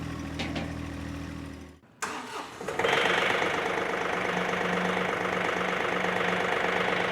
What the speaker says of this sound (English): upon initial cold start, this tractor is loud. There's a higher pitched clatter that you can hear there.